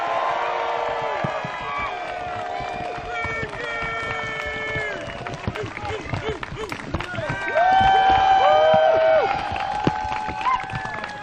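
Crowd at the Green Mountain Championship disc golf final at Smuggler's Notch Resort cheering, whooping and applauding champion Ricky Wysocki, sustained lively noise with an announcer's voice over it.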